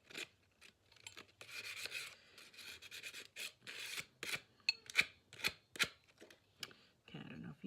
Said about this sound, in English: I'm gonna sand it down a bit so that it looks more rustic.